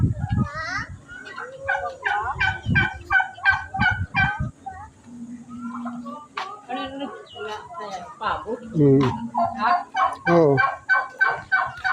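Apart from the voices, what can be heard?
turkey gobbling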